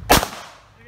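One sharp, close gunshot during firearm shooting training, a loud crack followed by a short decaying echo.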